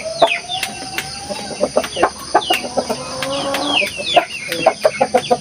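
Gamefowl roosters cluck and squawk close by during a conditioning exercise, giving a busy run of short, sharp calls with a brief drawn-out note, amid light rustling and flapping.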